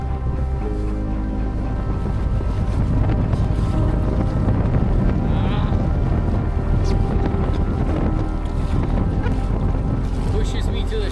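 Strong north wind roars steadily across the microphone while a boat is paddled against it, with lapping water underneath and a voice speaking now and then.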